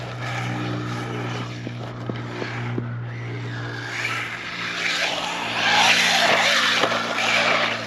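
An Arrma Typhon RC car whines along an outdoor track, its high motor pitch rising and falling with throttle, then skidding and tumbling with rough scraping noise as it crashes, loud and close.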